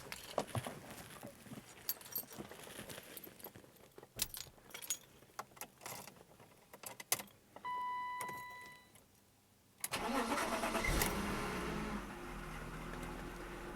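A 1993 BMW 525i E34 with a manual gearbox and a starter that makes an odd noise cranks and fires up. A loud, steady engine roar takes over after several seconds of quieter handling sounds.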